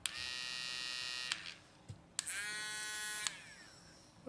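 A battery-operated pencil eraser gives two separate high, whiny buzzing bursts, each lasting about a second, close and fairly quiet, with a short pause between them.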